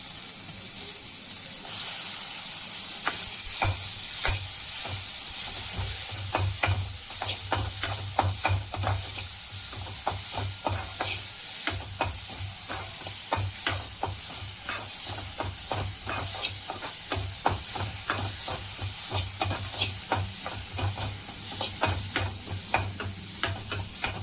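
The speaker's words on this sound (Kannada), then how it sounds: "ಟೊಮೆಟೊ ಮೆದು ಆಗುವವರೆಗೆ ನಾವು ಇದರಲ್ಲಿ ಫ್ರೈ ಆಡಿಸ್ತಾ ಇರಬೇಕು" Tomatoes frying in a pan for curd curry, a steady hissing sizzle with frequent light clicks and scrapes of a spoon stirring throughout, close and continuous.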